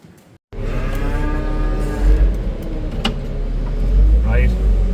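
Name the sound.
cattle mooing in a shed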